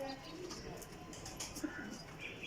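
Breeder pigeons in a loft cooing softly, faint low calls with light chirps and rustles in the background under a quiet, distant setting.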